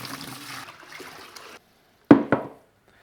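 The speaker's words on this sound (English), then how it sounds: "pour in my nutrients" Liquid hydroponic nutrients poured into a trash-can reservoir, a soft trickling splash for about a second and a half, then two sharp knocks as the lid goes back on, close and alone.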